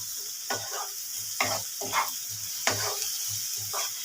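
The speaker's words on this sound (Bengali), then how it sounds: "এবার এটা এই যে ভালো করে ভাজা হচ্ছে" Dried red chilli powder and spices sizzle and fry steadily in a hot pan, with a stirring spoon scraping in short bursts every second or so.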